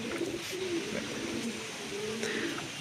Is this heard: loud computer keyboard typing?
no